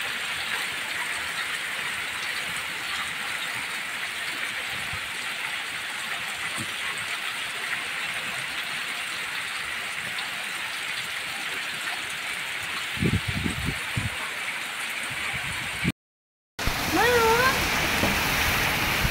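Heavy rain pouring in Haveri during a storm, a dense continuous roar of downpour throughout, with a few thumps near the end and a brief dropout before the rain resumes.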